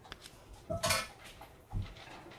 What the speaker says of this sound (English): So let me grab a knife and I'll get to cutting.